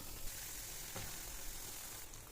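Ragi flour roasts in ghee in a pan over a low flame, giving a steady, soft sizzling hiss without break and with no voices.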